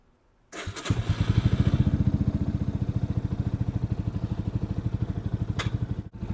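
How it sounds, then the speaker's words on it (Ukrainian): A 2024 Lifan motorcycle engine cranks and catches, then settles into a steady rhythmic idle putter, close and loud, with a short dip near the end. "Ножку прибираємо, запускаємо. Мотоцикл Ліфанка 19 24 року"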